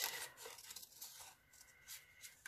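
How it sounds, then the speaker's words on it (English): Scissors snip and paper rustles close up as a clothing tag is cut around for journal craft, faint quiet cuts with soft crinkling. "Just going to cut round this bit."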